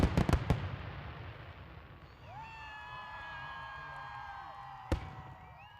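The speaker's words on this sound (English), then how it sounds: "Thanks to the O'Briens and, of course, Zambelli Fireworks for that almost 30-minute show" A Zambelli fireworks show at a 4th of July festival: a few sharp, loud bangs open, followed by distant crackling and rising whistles over the faint murmur of a crowd, then another sharp burst.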